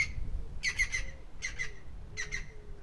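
A woodpecker calls outdoors in three bursts of harsh, rapid squawking notes, moderately near, over quiet background noise with no speech.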